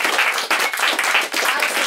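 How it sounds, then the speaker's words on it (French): Dense, steady applause from an audience, a continuous wash of many hands clapping with brief dips in intensity, no voices. "Et un superbe applaudissement au tabla"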